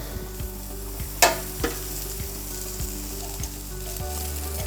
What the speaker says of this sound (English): Chuck in my bread chips, whatever you want to call them. Just spread those all out. Just want to toast them up a bit.